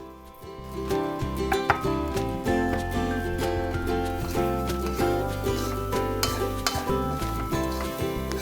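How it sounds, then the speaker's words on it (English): Squid stir-frying with sliced dry chili in a hot pan, steady loud sizzle under repeated clinks and scrapes of a spatula against metal, close and continuous with no talking. "Stir fry it for another 1 minute"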